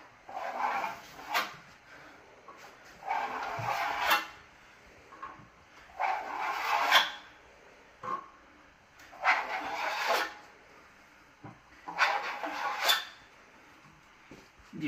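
Hand sanding during a loft-style room renovation: rhythmic rasping strokes in regular back-and-forth bursts about a second long, close and moderately loud with short pauses.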